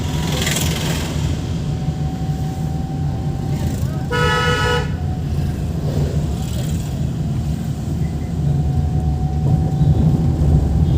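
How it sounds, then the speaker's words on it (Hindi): A single car horn honks for almost a second over constant road and engine noise, with people talking nearby. "इनको हॉर्न दे करके धीरे से निकालना"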